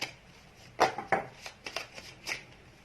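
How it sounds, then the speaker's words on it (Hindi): Tarot cards are shuffled by hand at close range, a quick run of riffling, flicking bursts of uneven rhythm over a quiet background, with no talking. "Okay, last shuffle."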